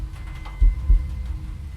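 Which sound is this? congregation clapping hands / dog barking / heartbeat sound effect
heartbeat sound effect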